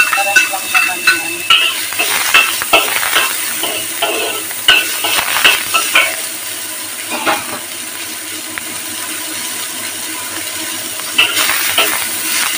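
Onions sauté in a pan with a loud, close sizzle, broken by repeated scraping and clinking stirs from a utensil, and no one speaks.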